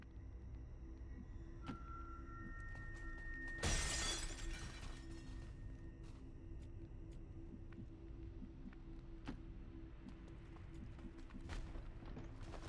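Glass shatters in the video game XCOM: War of the Chosen, a sudden bright crash and scatter that dies away into quieter game ambience, with scattered clicks and small impacts afterward.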